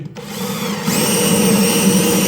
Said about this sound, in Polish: wywiercieć otwór tak na 9 mm od, od płaszczyzny spornika